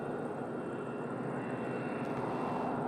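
An EasyJet airliner on a long downwind approach to Madeira Island Airport makes a faint, steady, distant engine rumble with a soft hiss. The sound is even throughout and no one speaks.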